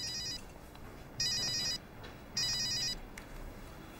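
A home telephone rings unanswered, sounding two separate bursts of ringing with pauses between them over faint room noise.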